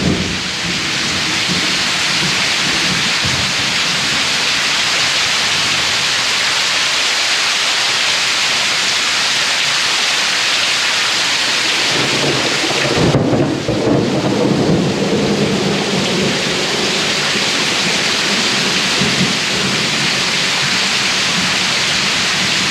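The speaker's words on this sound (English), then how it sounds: "It is pouring out there right now. Unbelievably pouring." Heavy rain pours down without letup on a coastal peninsula in the evening, a loud dense roar of water with a deep rumble of thunder swelling partway through.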